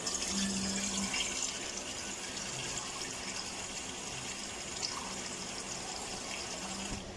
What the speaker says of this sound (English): I'm going to add water into my pan